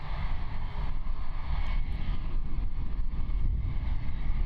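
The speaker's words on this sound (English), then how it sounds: "We've got our A320 departing to Auckland, so we'll get eyes on that in just a moment as it taxis past us here." Airbus A320 taxiing at Christchurch airport, a steady low engine rumble with broadband whine, continuous and moderately loud, heard from a spotting position outdoors without talk.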